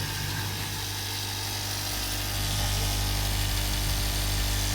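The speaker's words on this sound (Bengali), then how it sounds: "দেখুন মেশিন কিভাবে চলতেছে।" A hosiery cutting machine runs with a steady, loud mechanical drone and a low hum that swells a little halfway through, heard alone without any voices.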